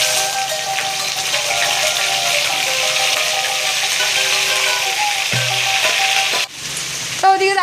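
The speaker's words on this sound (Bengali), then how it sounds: "আর এদিকে চিকেন ভাজা করতে বসিয়ে দেওয়া হয়েছে" Chicken pieces sizzle loudly and steadily in a hot pan, a dense crackling fry with a few clinks and rattles of utensils near the end.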